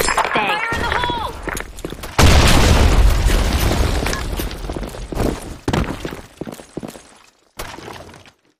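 A grenade goes off in a video game, a sudden heavy boom followed by crackling debris and a rumbling tail, with short voice calls before the blast and sharp bursts after it.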